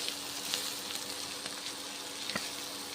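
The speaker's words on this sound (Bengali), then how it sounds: "ভেজে নিচ্ছি" Spice mix frying in a pan, a steady broadband sizzle with a few faint scrapes or clicks, moderately quiet and close, no voices.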